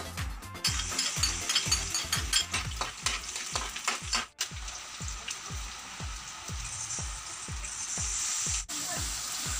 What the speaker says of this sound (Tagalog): So ngayon, nagigisa na si Mami G.